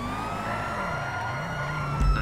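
A police car siren wails continuously in GTA 5 Online, a steady electronic tone over engine rumble that ends in a brief low thump.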